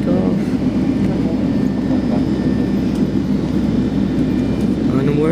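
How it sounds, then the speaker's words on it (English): Airliner at Hong Kong's airport turning onto the runway before takeoff, a steady loud rumble of engines and cabin noise filling the cabin throughout, even and continuous with no pauses. "Alright, we're turning in to takeoff."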